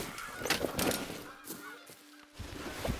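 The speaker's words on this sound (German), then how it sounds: "Oh, ich höre Gänse." A flock of geese honks repeatedly in theHunter: Call of the Wild during a hunt at Hirschfelden, with loud, overlapping nasal calls at an uneven rhythm, some near and some farther off, and no voices.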